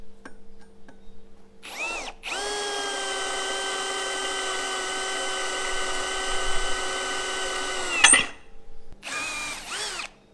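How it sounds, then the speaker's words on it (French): A TECCPO 18V cordless hammer drill bores through a thick piece of steel angle iron, with short revving bursts before a loud, sustained whine of about six seconds that ends abruptly, followed by another brief spin. "Maintenant, on va essayer dans la ferraille. J'ai un gros morceau de cornière."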